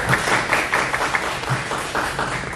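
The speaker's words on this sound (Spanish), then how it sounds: "Le damos un aplauso." An audience at an arts project forum applauds in a brief, dense burst of many hands clapping together, loud and close, with no talking over it.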